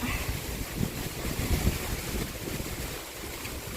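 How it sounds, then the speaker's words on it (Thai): Strong wind in an open field roars and buffets the microphone in a steady, rough rush of noise, gusting slightly louder midway, with no voices. "ขออภัยในเสียงลมด้วยค่ะพี่น้องถ้าเสียงดังกะ"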